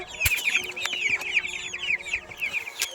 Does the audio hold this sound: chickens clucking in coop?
yes